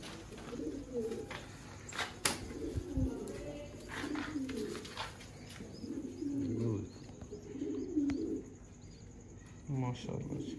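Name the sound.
Sialkoti pigeons cooing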